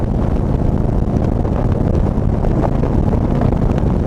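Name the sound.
Harley-Davidson Road Glide motorcycle cruising at 80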